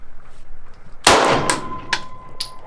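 Three sharp handgun shots fired in an anticipation shooting drill, spaced about half a second apart, loud and close with ringing decay after each report.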